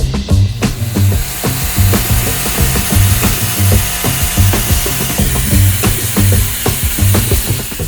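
Metal cutting on a Dana 30 front axle being built for a Jeep Cherokee XJ, a steady close grinding, sawing rasp running throughout with rhythmic pulsing strokes and no talk.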